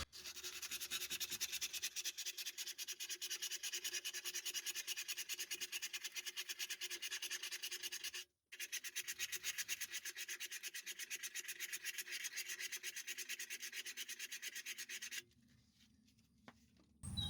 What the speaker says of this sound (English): I'm going to scuff this up, get it nice and good and clean.